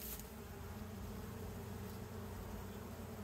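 Honey bees swarm around an opened top bar hive, a steady dense buzz filling the air close by, continuous and fairly faint with no voices over it.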